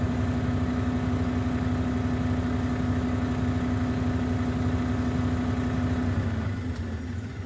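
A truck engine idles steadily during a pre-trip inspection while air pressure builds toward 90 psi, a constant low hum with a strong harmonic drone, easing slightly in the final second.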